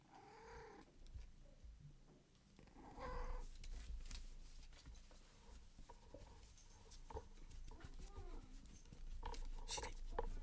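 A house cat purrs in a low, steady rumble that runs the whole time beneath ongoing conversation.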